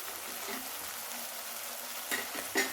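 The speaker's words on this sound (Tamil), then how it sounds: "ஒரு மூணு பருவ பூண்டு கட் பண்ணி வச்சுருக்கேன் அதை போட்டுக்கிறேன்" Garlic and cumin seeds frying in hot oil, a steady close sizzle with a couple of sharper crackles and stirring scrapes near the end.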